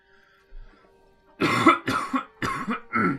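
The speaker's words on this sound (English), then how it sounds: "Sorry, I quickly had to cough a little." A man's coughing fit close to the mic, four harsh coughs in quick succession after a faint earlier throat sound, over a quiet background with faint game audio.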